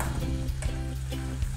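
Ginger garlic paste and chopped tomato frying in a pan, giving a loud, steady, close sizzle with faint stirring scrapes throughout and no talk.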